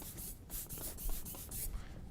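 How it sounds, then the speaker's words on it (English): An air blower puffs dust off camera gear in a series of short, breathy hissing bursts, about seven close puffs in quick irregular rhythm with no talking. "Okay, one last blow on this. We'll take this up, blow it off."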